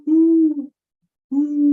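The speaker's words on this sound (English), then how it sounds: "the sound of a great horned owl wakes you up" A great horned owl gives two deep, steady hoots at close range, the first longer with a wavering tail, then a short pause before the second begins, in an otherwise silent night.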